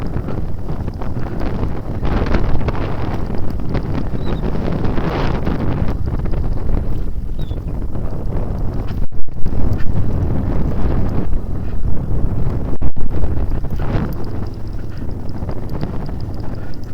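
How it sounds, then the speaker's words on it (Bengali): Strong wind in Yumthang Valley, North Sikkim, buffets the microphone as a loud, continuous rumbling roar, with heavier gusts in the middle and later, and no talk. "প্রচণ্ড হাওয়া দিচ্ছে"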